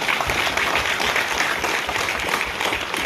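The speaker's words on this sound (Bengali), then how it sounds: "একটা করতালি সবাই মিলে একবার" Steady, dense audience applause fills a hall at a state-level launch of the 2024 Stop Diarrhoea campaign held on Doctors' Day, continuing evenly throughout without a break.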